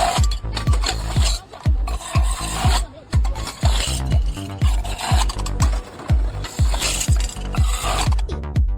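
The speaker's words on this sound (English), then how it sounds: "He is using a manual rotary can cutter to remove the top lids of used cans quickly and neatly." A manual rotary can cutter grinds and clicks rhythmically as it cuts the lids off used beverage cans. The loud, close ratcheting comes in quick, regular turns with a metallic rasp, and no one speaks.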